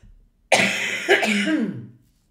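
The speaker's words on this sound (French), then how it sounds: "Donc, tant pis, je tousse." A person who is ill lets out a single strong, raspy cough that trails off into a throat-clearing rumble, close and alone after a brief silence.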